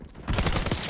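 A rapid burst of gunfire in a shooter video game, landing a headshot: a quick cluster of sharp, close reports packed into under a second, with no voices.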